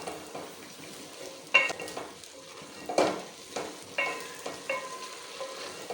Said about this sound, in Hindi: तो अब हम इसको मिक्स कर लेंगे अच्छी तरह से। इसकी अब हम भुनाई करेंगे।